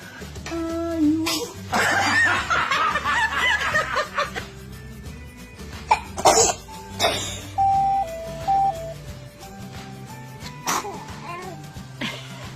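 A small child sneezes amid a family setting, with a quick burst followed by giggling and snickering, while adults talk and react in the background over a steady hum.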